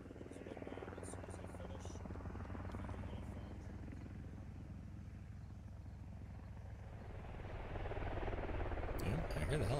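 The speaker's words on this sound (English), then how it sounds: "Yeah, I hear the helicopter." A military helicopter in the video game SquadOps passes overhead, its rotor thrumming steadily and growing louder toward the end over a continuous low engine drone.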